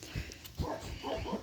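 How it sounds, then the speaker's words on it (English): Dogs bark repeatedly on a farm, sounding muffled and somewhat distant. A few short barks are spread over the moment against a noisy background. "Dogs are barking like crazy."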